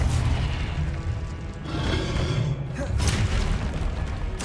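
A Confringo fire-blast spell from the video game Hogwarts Legacy bursts in a loud, booming explosion that sits over a dense, rumbling game soundscape, and further thuds and whooshes follow throughout.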